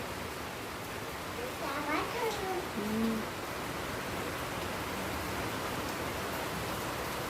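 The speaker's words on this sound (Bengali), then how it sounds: "দেখো কত জোরে বৃষ্টি হচ্ছে" Heavy rain pours outside at dawn, a dense steady hiss, with a brief voice heard faintly early on.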